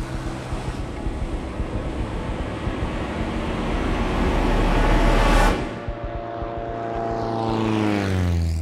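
A propeller plane's engine drones steadily at night as it approaches to land on a darkened airstrip, loud and close from inside the cockpit, surging slightly before dropping to a lower, wavering hum.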